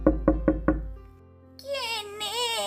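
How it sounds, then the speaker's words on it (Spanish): Four sharp, evenly spaced knocks on a door open the sound, followed by a pause and then a voice speaking. "cuando oyó que golpeaban a su puerta."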